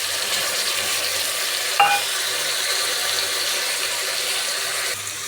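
Chopped tomato fries in a pan for brinjal curry, giving a steady even sizzle with one brief sharp clink of a utensil partway through.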